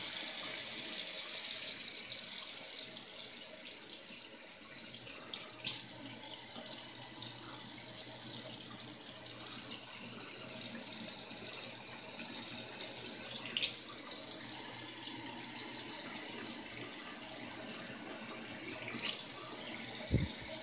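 Water running steadily from a shower at home, a continuous hissing spray with small shifts in flow, moderately close and heard alone.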